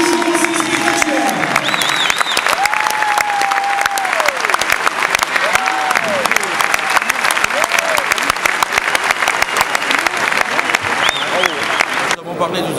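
Loud, sustained audience applause with some cheering fills a television studio during a martial arts program, dense clapping running steadily throughout with faint voices and tonal sounds mixed beneath.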